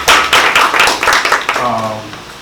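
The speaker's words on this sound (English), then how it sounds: "We'll give them a round of applause." A few people clap briefly at a Baltimore UNIA-ACL community panel discussion, giving close, scattered claps that fade after a second or so as a voice starts talking.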